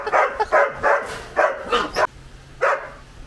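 Dogs barking at a tourist attraction in Panama, a quick run of close, loud barks and yips in uneven bursts, then a pause before one last bark.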